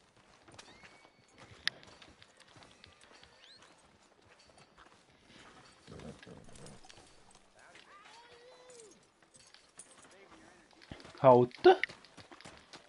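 Horse hooves clip-clop on a street in a video game, quiet scattered steps under speaking voices, ending with a louder burst of hoofbeats and a whinny near the end.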